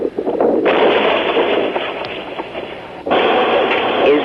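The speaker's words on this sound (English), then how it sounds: "On the Israeli side, there is an almost constant barrage from the artillery battery" An Israeli artillery battery set up in a former Arab village fires a near-constant barrage that comes across as a loud, sustained rumbling roar with a sharp jump in level partway through, heard alone.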